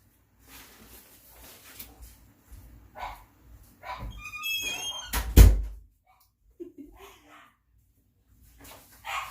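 Dogs barking inside a home, a short cluster of loud barks and a thump partway through, with quieter rustling and household noise before and after.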